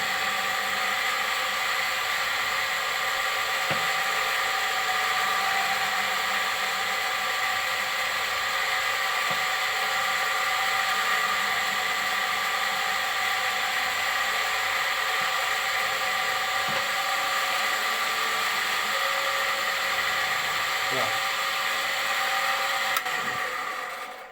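A cold-forging rolling block machine bends a metal pipe at a slow feed, giving a steady, loud broadband whir with a constant mechanical hum throughout, punctuated by a few faint clicks and knocks.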